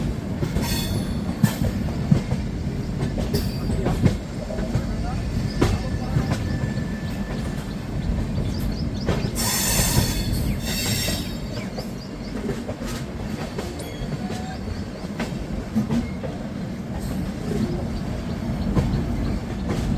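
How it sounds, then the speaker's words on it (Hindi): The Pushpak Express rolls into Lucknow Junction with a continuous loud rumble of railcar wheels on track and scattered clanks and squeals throughout. "हमारी पुष्पक एक्सप्रेस अपनी जर्नी की डेस्टिनेशन आ चुकी है लखनऊ जंक्शन"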